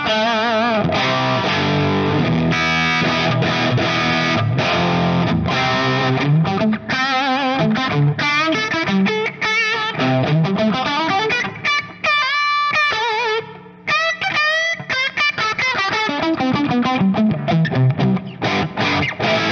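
Heavily distorted electric guitar played through a tube amplifier with the master volume turned down, the overdrive coming from the preamp stage; sustained chords and melodic lines ring out loud and continuous with no talking.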